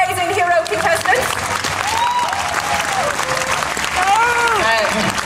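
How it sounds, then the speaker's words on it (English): Crowd applause fills a cosplay contest at the Walker Stalker Germany 2018 fan convention, a dense, steady wash of clapping from start to finish with whoops and cheers rising above it. "round of applause for all of our amazing hero contestants"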